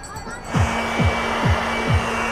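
Power blower running with a steady loud whirring rush, preceded by a short burst of voice, with a rhythmic pulsing throb repeating about every half second.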